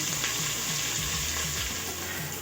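Steady, continuous sizzle of onions frying in hot oil for a mutton achar gosht, loud and close with a faint low clatter underneath and no talking.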